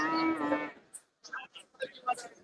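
Large HF dairy cattle at a cow market in Chinapuram give a loud, close moo, followed by scattered softer clatter and murmurs from the market.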